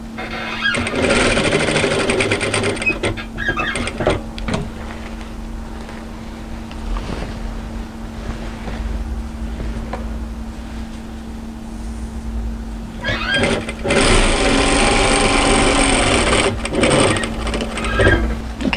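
A sewing machine runs through the mitred, pressed-open seam of a step-hem raglan hoodie, a loud steady motor whir with stitching rhythm that eases off midway before surging back up near the end.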